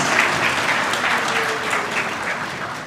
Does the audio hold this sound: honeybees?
no